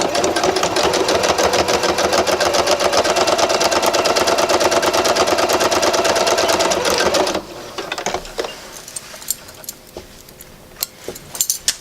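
A sewing machine stitches a zipper bag, running in one steady, rapid, loud burst for about seven seconds, then stopping and leaving faint clicks and handling noises.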